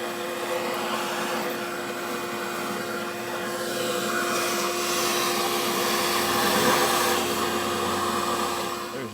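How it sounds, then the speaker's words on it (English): A shop vac sucks crushed rock material out of a hole, a loud continuous motor roar with rattling grit as debris passes through the hose, swelling slightly midway, no voices. "I'm going to vacuum this out now"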